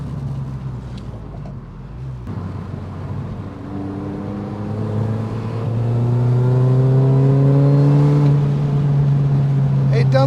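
Supercharged 22-year-old Mini R53 engine revving, a loud rising whine that climbs in pitch and holds at high revs, close up, with no distinct pops standing out.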